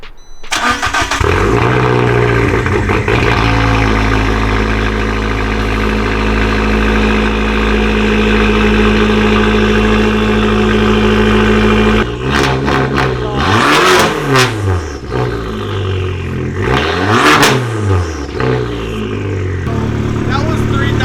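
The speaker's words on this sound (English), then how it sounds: "Now we'll go ahead and do the startup." A turbocharged car engine with a newly installed downpipe cranks and starts, then settles into a loud, droning idle before several sharp revs rise and fall, close to the microphone.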